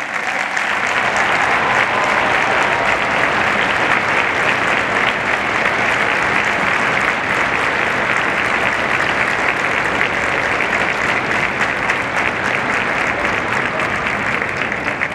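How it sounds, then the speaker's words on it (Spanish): A large audience at a May 2015 high school graduation ceremony at Prepa Tec Campus Eugenio Garza Lagüera applauds the graduates, a dense, steady roar of clapping that holds loud and unbroken throughout. "Brindemos un fuerte aplauso a los graduados que hoy nos acompañan."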